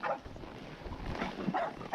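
Dog barking near a horse outdoors, with a few short barks and yips breaking through a steady background hiss, moderately close.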